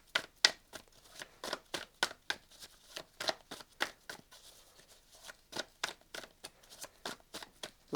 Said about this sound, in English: Oops, a bit more of a shuffle.